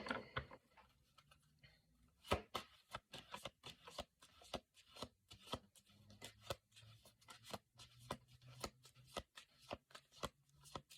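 Cards being shuffled in a series of quick riffles, crisp rapid flutters repeating close up with brief pauses between them.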